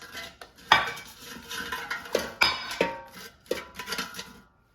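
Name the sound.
seasoned frozen asparagus put into air fryer basket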